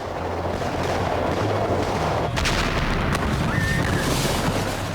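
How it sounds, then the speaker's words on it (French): A dense, roaring barrage of three tons of fireworks igniting at once over San Diego Bay, continuous loud booms and crackle blending into one sustained rumble with a brief whistle. "provoqué l'allumage simultané de 3 tonnes de feux d'artifice"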